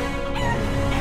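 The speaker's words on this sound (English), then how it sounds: "you're launching chickens over the fire" Chickens cluck and squawk in the video game Lord of the Rings Online while being launched over a fire, a loud brief burst of fowl calls filling the whole moment.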